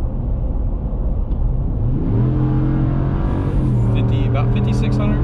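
A 2020/2021 Ram 1500 Laramie with the 5.7 V8 accelerates hard under full throttle, a loud engine roar climbing steadily in pitch as the revs rise, then holding high near the top.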